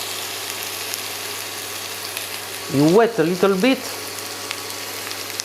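Potatoes frying in smoking-hot oil in a pan give a steady broadband sizzle throughout, close and fairly loud, while a voice speaks briefly partway through.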